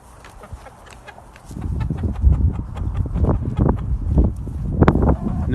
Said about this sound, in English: to us, it sounds like a bunch of clucking and squawking